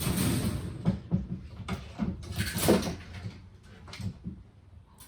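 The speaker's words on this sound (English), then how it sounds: "my cat just ran up the front door. Okay, that's the noise." A cat runs up against a front door, setting off a series of soft thumps and rattling bumps of the door at uneven intervals, close by and fairly quiet.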